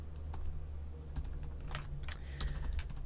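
Keys clatter steadily as HTML code is typed on a computer keyboard, a close, busy run of clicks with no voices over them.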